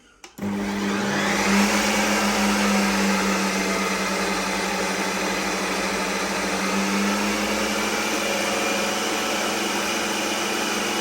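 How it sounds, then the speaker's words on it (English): A Ninja Creami ice cream maker starts up abruptly and runs with a loud, steady whirring motor roar and rattling hum, continuous and close. "And now I guess I just push the ice cream button."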